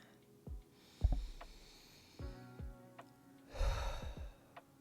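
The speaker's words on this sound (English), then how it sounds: "I want to go ahead and have you all take 2 deep breaths in" Deep breaths drawn in and let out slowly, close and soft, with several audible inhales and exhales separated by brief pauses in an otherwise quiet room.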